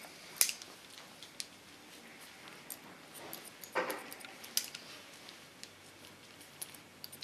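Scissors snip hair during a pixie cut: faint, sparse metallic clicks close by, scattered over a quiet room background.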